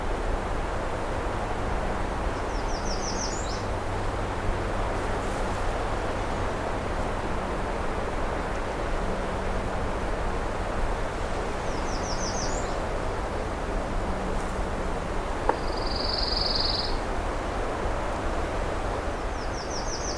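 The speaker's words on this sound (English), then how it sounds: "I believe it's only the males that sing, the pine warblers." A pine warbler sings short, repeated trills at a distance in a June afternoon setting at Pine Tree Point North, faint against a constant hiss of wind and rustling, with several spaced phrases.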